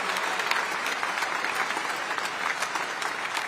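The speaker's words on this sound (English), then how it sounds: "Let's give them a round of applause for producing these graduates we have here" A graduation audience at Magnolia High School applauds steadily, a dense wash of many hands clapping at once that holds evenly throughout with no pauses.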